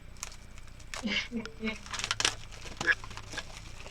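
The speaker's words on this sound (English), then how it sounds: "I still have it sealed and shit. So I'm gonna do that, unwrap it right now." Sealed Madonna Erotica CD unwrapped by hand, with close crinkling of plastic wrap and brief tearing in scattered bursts, under a voice talking in short phrases.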